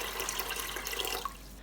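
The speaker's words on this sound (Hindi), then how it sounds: "लोबिया को हमने पानी समेत प्रेशर कुकर के अंदर डाल लेना है।" Water pours into a pressure cooker holding soaked white lobia beans, a close, bright splashing trickle that runs continuously and then tapers off at the end.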